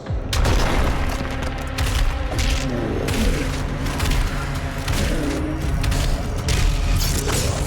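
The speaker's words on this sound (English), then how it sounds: "Oh, gate comes down." A heavy mechanical gate slams down in the video game Doom Eternal, a loud booming, clanking rush of metal that runs on with dense, continuous game noise and low rumble throughout.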